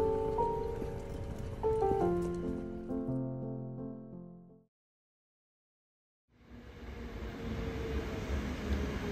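An electric train runs near Nara, with a steady rumble and tonal hum that fade out into a few seconds of silence before the rolling noise returns.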